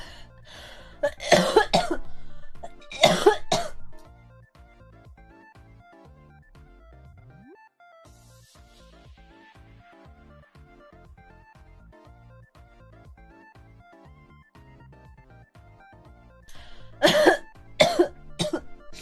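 Girl coughing in two sharp clusters near the start, followed by a long quiet stretch with faint background music, then another burst of several coughs near the end.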